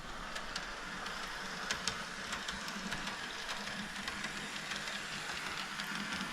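A model train engine runs backwards along its track with a faint, continuous rolling rumble and scattered light clicks and ticks, low in level and steady throughout.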